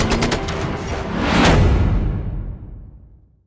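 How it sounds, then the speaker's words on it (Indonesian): Volleys of automatic gunfire in an action film, a dense rattle of shots that swells to a loud peak around the middle and then fades away, with no talk. "rentetan tembakan yang mentargetkan mereka"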